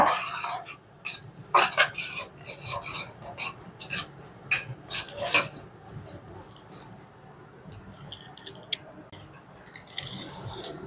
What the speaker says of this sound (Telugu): ఇప్పుడు మనం కొబ్బరి వేసుకుందాం కొబ్బరి వేసుకొని మిక్స్ చేసుకుందాం